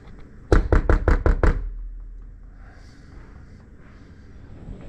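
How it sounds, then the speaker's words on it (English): Knuckles rap a door six times in a quick, even run, close and sharp, followed by quiet room tone with faint movement. "Let's knock."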